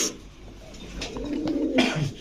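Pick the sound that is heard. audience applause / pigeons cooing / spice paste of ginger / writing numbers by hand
pigeons cooing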